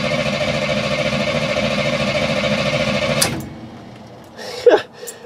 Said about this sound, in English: It's building enough oil pressure cranking that it's like it's running almost.